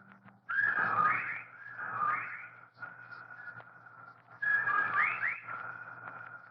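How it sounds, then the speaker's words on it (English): Whistled bird calls serve as a sound effect in a radio drama. Two bursts of repeated rising, swooping whistles come out clear and prominent, separated by a quieter stretch. "Listen, they whistle in time with his breathing now."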